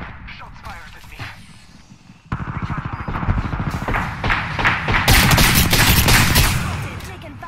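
Heavy, sustained gunfire from a military shooter video game, dense bursts and explosions rising sharply after a quieter opening and staying loud, with shouted voices mixed in.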